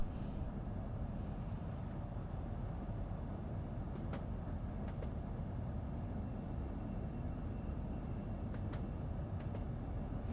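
Southeastern High Speed Class 375 electric train running in Train Sim World 2, a steady rumbling rail drone with faint brief clicks over the track, continuous and fairly quiet throughout.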